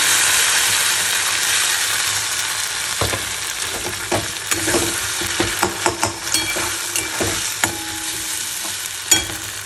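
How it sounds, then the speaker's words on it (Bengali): Onions fry in a pan with a steady sizzle, with scattered scraping clicks of stirring and occasional sharper pops; no voices. "পেঁয়াজটা ভাজা হয়ে গেছে, এটাকে দিয়ে দিলাম।"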